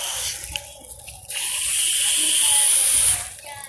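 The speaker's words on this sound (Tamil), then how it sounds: "கிராஸ்லேயும் தண்ணி விடணும்," Water gushing from a hose or tap while watering lawn grass at a home garden in spring, a steady hissing spray that swells louder midway and then eases off.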